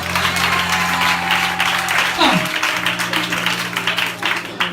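A church congregation applauding during a worship service led by a prophet, dense sustained clapping mixed with crowd voices and a steady tonal hum, with a brief swooping tone in the middle.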